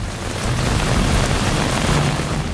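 Heavy rain pours down steadily over a North Indian city, with a low rumble of thunder rolling beneath the dense hiss.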